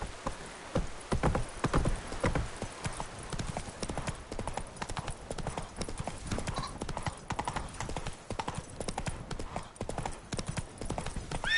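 The horse Roach galloping in The Witcher 3, with rapid continuous clip-clop hoofbeats throughout, close and steady, and a brief whinny amid the pounding.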